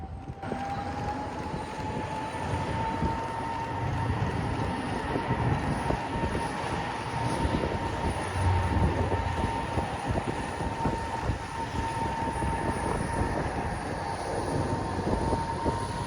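A stone freight train passes on an MBTA rail line, a steady heavy rolling rumble with a sustained whining tone, holding loud and even for the whole stretch.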